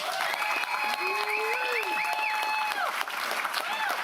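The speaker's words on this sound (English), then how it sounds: "Let's give Mr. Davis a round of applause." Applause from the audience at a Sutter County Board of Supervisors meeting, a steady patter of clapping throughout, with cheering or whistling voices rising above it.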